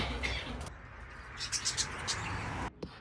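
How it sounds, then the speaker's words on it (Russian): Live parrots give several faint chirps and short calls against a steady, noisy outdoor ambience at a farm cafe in Lampang, northern Thailand. "Вокруг живые попугаи"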